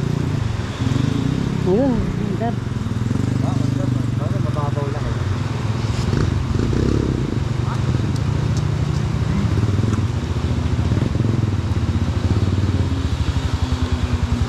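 Enduro trail motorcycle engine turning over and catching, then settling into a steady low idle beneath the talk of a couple of people nearby.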